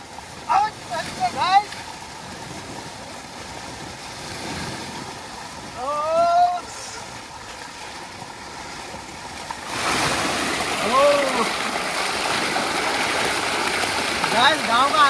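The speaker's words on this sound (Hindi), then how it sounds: "इधर हमारा ट्यूबवेल चालू हो गया, ये देखो अभी नहाएंगे, पूरा पानी चल रहा है" Water gushes steadily from a running village tubewell as a broad, constant rushing wash, with short voice-like sounds breaking in now and then and the flow growing louder in the second half.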